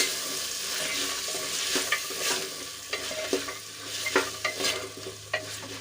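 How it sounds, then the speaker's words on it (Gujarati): Potatoes and green peas sauté in a pan with oil, a steady sizzle underneath repeated scraping and stirring strokes of a spoon that knock out irregular clicks, close and fairly quiet with no voices. "બંને સરસ રીતે મિક્સ કરીને આપણે થોડી વાર સુધી સાંકળવા દઈશું"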